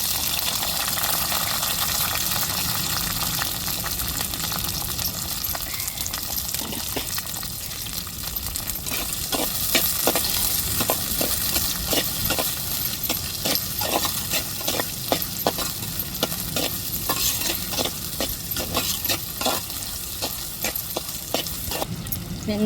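Small onions with green chillies and curry leaves frying for a country chicken stir-fry: a constant loud sizzle and hiss, with rapid scraping stir strokes in the second half and some talk underneath.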